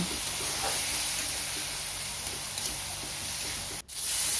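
Ground chilli, coriander, turmeric and cumin fry in hot oil for a potato, aubergine and small-fish curry, giving a steady close hiss of sizzling that holds evenly, broken once by a brief dip near the end.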